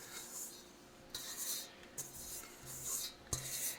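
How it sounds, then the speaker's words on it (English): Pie crust pastry dough tipped from a stand mixer bowl onto a work surface, heard as soft, close rubbing and scraping with a few light knocks, quiet overall with no talking. "So now I'm gonna dump this out onto my surface here."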